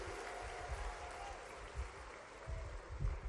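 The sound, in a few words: audience clapping at a rally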